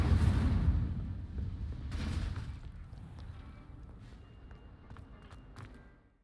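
Incendio fire spell cast in Hogwarts Legacy: a loud broadband burst of fiery roar that rumbles at first, swells briefly again, then fades into a thinner crackling tail with faint sparkly high ticks.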